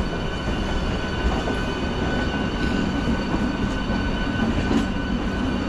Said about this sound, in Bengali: লোকাল ট্রেন আর এক্সপ্রেস ট্রেন একই সঙ্গে বেরোচ্ছে